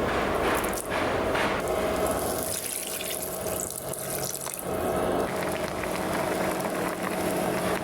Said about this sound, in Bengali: তারপর কেটে রাখা আমগুলো একটি প্যানে অল্প পানি দিয়ে জাল দেব